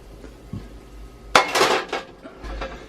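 Cast iron pan knocked and scraped as baked fries are pulled from the oven, a sharp metallic clank followed by a few rattling scrapes and softer clinks close by.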